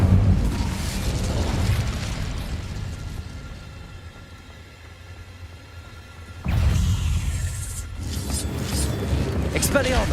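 An Incendio fire blast in Hogwarts Legacy erupts with a loud, booming roar, fades into a rumbling lull, then flares up again in a second sudden burst of crackling fire.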